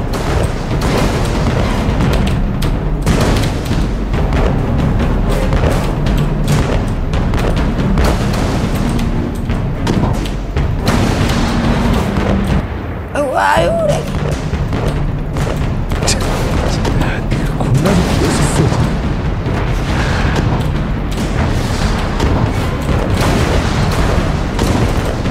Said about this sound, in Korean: 레프트 대포를 발사 폭뢰투하